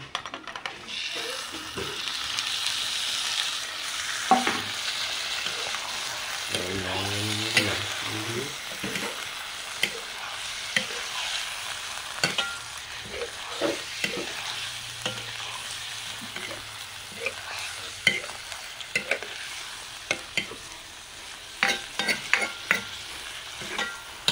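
Meat frying in a pan with onions, a low steady sizzle broken by stirring scrapes and utensil clatter, with a short tonal rattle partway through and sharper knocks toward the end; no voices.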